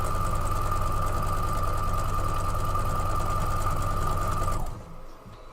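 A sewing machine chain pieces quilt fabric, running in a fast, steady whirring buzz with a rapid mechanical needle rhythm, then stopping abruptly near the end and leaving only faint room noise.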